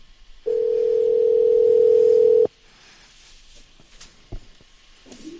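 Steady telephone dial tone heard after a Skype call drops, a loud continuous hum lasting about two seconds that cuts off abruptly, followed by faint room noise.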